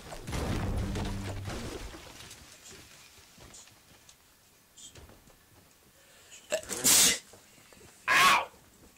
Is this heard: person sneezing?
yes